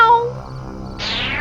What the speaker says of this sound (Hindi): ओह, बिल्ली।